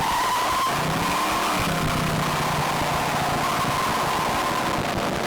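A 1969 Camaro with a 383 stroker V8 roars steadily as it accelerates with wheel spin, with a sustained whine and tire noise, loud and close throughout.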